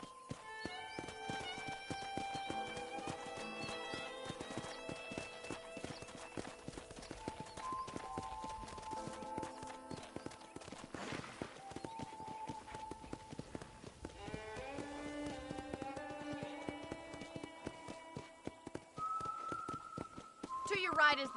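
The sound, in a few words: horse riding hooves in Red Dead Redemption video game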